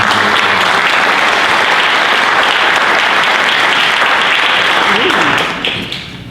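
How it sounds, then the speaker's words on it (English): An audience's round of applause at a community talk event, loud and continuous, tapering off in the final second. "So if we could give a round of applause"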